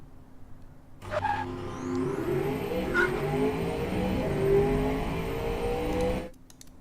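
A 2016 AMW Eagle engine in the racing game Automation climbs through the revs on a lap of Laguna Seca, a loud, continuous rising whine with gear-change dips that cuts off abruptly.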